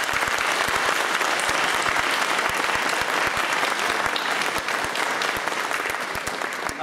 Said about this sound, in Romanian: Și eu vă rog să-i aplaudăm.